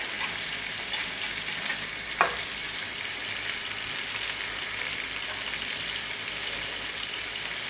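Mirabelle plum sauce reduces in a pan with a steady, dense bubbling sizzle that runs evenly throughout, broken by a couple of faint utensil clicks near the start.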